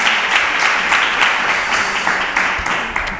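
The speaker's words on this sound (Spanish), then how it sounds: "Aplauso en este caso también para Colegio Niño Jesús." An audience at a school quiz contest applauds a school team, steady clapping with some distinct sharper claps standing out, loud and continuous.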